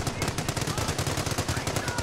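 Rapid machine gun fire in the World War II strategy game Company of Heroes, a dense continuous burst of close, loud shots with game voices in the background.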